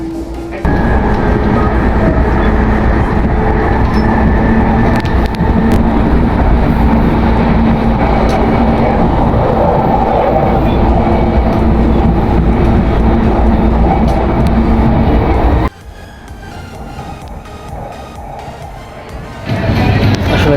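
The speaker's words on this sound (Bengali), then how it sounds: "ট্রেনে যাচ্ছি আর দেখতেছি আর কি প্রকৃতি আর জাপানের ঘর বাড়ি।" Steady loud rumble and rolling clatter from inside a rapid service train in Japan heading for Sasakura Bay, continuous for most of the clip before dropping abruptly to a quieter hum near the end.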